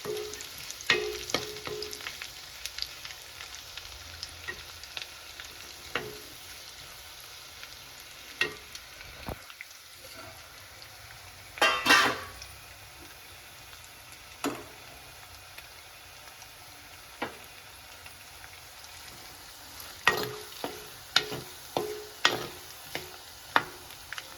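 Low sizzling of garlic frying in oil, with scattered clicks and scrapes of stirring and one louder clatter partway through; no voices.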